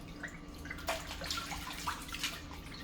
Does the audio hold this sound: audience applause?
no